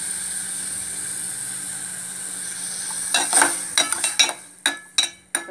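Tomato pulusu stirred in a pan: a quiet sizzling hiss at first, then a spoon scraping and clinking against the pan in several sharp, irregular strokes, close by.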